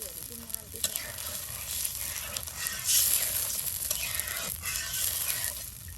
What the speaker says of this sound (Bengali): সুন্দর করে ভেজে নেওয়া হচ্ছে তেলের সাথে এই যে মশলাগুলো।